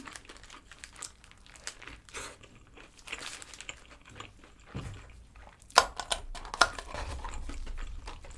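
A Mom's Touch chicken thigh-patty burger with mac and cheese and chipotle mayo is bitten and chewed up close: soft, intermittent chewing and crinkling, with a couple of sharper crunches near the middle and no talking.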